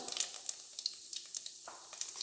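Fenugreek seeds sizzle in hot oil for a brinjal puli kuzhambu, a tamarind curry. A close, steady frying hiss carries fine crackles and pops throughout, with no talk.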